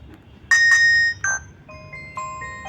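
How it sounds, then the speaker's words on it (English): A Nokia keypad mobile phone plays its ringtone at close range, a bright electronic melody of several distinct tonal notes over a faint background hum. "You have new ringtone sound"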